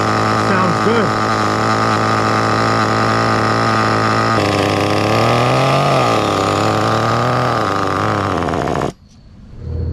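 A CEN CT5 nitro RC car engine idles loudly and close up with a raspy, buzzing drone, briefly dipping and wavering in pitch before cutting out abruptly near the end.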